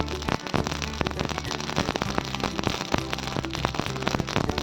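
Mustard seeds crackle and pop in hot oil while pickled amla is being made, a dense, continuous sizzle of rapid sharp snaps close up.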